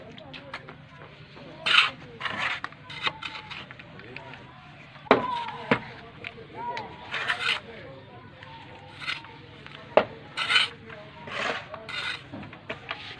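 Labourers mixing cement in metal pans on a building site, with repeated scraping, rasping and clanking strokes at an uneven pace while someone talks over the work.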